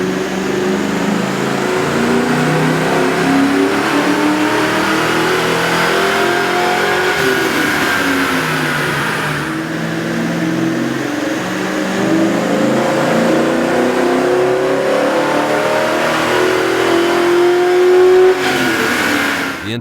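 Ford Mustang GT with a 4.6L V8 and a K&N air intake revs on a dyno, giving a loud, steady engine roar with rising and falling pitch sweeps throughout and no talk.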